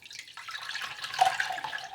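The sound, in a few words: straining lavender-infused hot water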